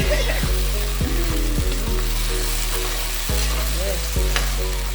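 Onion and sweet pepper fry in a hot pan with a loud, continuous close sizzle. Brief stirring scrapes and faint voices sit in the background.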